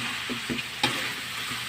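Food sizzles in a kawali as it is sautéed in its own released juices, a steady hiss with a few soft scrapes of a stirring utensil over a short stretch.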